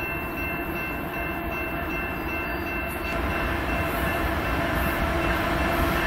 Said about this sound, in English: That's going to be a long train, so I'm not going to capture it all.